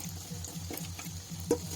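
Cabbage pakoras frying in hot oil, with a soft, steady sizzle and light crackle and an occasional scrape of stirring, close and alone without talk.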